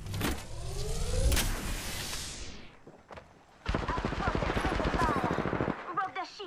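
Gunfire in Apex Legends: loud shots and a fast, even burst of automatic fire over other busy game effects, ending in a few scattered clicks and clatters.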